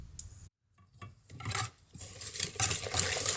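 Sugar worked into melted butter for brownie batter: a brief pause, then close scraping and rubbing strokes of a utensil in a bowl, growing louder and denser, no voices.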